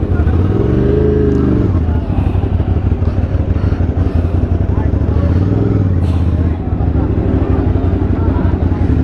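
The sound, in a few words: many motorcycles riding at a motorcycle event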